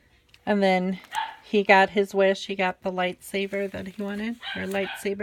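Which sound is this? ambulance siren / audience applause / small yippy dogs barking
small yippy dogs barking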